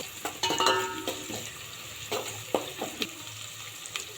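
Chopped onions sizzle in a few spoons of hot oil with mustard seeds and coriander seeds, a soft, steady frying hiss with occasional pops and clinks, fairly quiet, with no talking.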